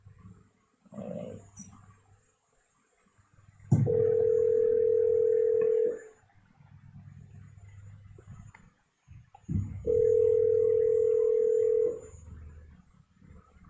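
Telephone dial tone heard while placing a call, two steady sustained tones each lasting about two seconds, separated by a gap with faint background noise and a click before each tone.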